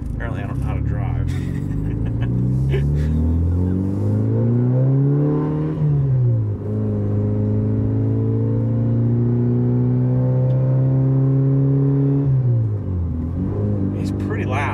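A Mitsubishi Evo 8 with an aftermarket exhaust revs and pulls through the gears from inside the cabin, a loud droning engine note rising, dropping at a shift, then climbing again, with talk over it.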